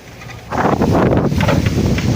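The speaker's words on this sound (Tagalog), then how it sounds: "Aroy, ang hangin talaga daw, bagyo." Loud gusting storm wind buffets the microphone, a sudden roar that swells after a quiet start and stays strong and rumbling.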